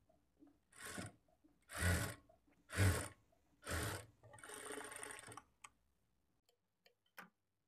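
A sewing machine stitches a plain blouse in quick bursts, four short rhythmic whirring runs and then a longer one, separated by pauses and followed by a few faint clicks.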